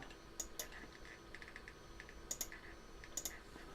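Faint computer keyboard key presses during a Photoshop comic-editing session, with scattered soft taps and a few sharper clicks in small clusters over a quiet background hiss.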